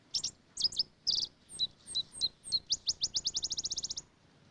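A sparrow in Arizona grassland delivers its loud, repetitive song close by, a few sharp chirped notes and slurred whistles that speed into a rapid trill of evenly spaced notes, alone against a quiet background.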